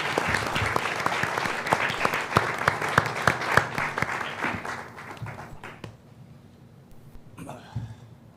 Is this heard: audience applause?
yes